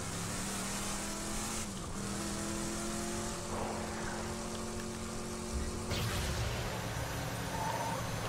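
Vehicle driving along a road in Borderlands 2, a steady engine hum and road rumble at low level, continuous with slight shifts in pitch and a brief bump near the end.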